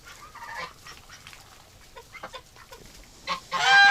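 Domestic ducks and geese kept for wintering call in a pen, with scattered soft quacks building to a louder burst of honking and squawking near the end, close by and without talk.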